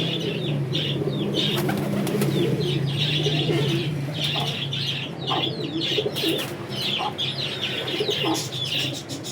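Teddy and bateraa pigeons coo and cluck together in a continuous, fairly loud close chorus with no talk over it, the low murmuring calls overlapping throughout.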